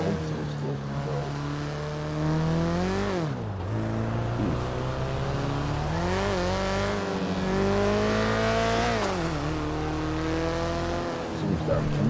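Turbocharged 600-horsepower Volkswagen Beetle rat rod accelerating hard, its loud engine note climbing and dropping through several gear changes, the pitch rising in steady sweeps over about twelve seconds with no pauses.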